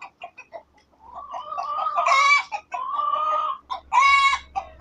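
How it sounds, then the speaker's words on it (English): Rooster and chickens cluck in repeated bursts, with two loud, harmonic crows rising over the clucking, close and clear with no talk. "Is that a cock? Is it a cock and chickens or what?"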